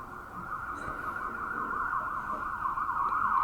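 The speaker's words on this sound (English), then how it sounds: "Wait till that siren goes by." An emergency siren wails steadily in the distance, its tone warbling and growing slightly louder over a low background hum.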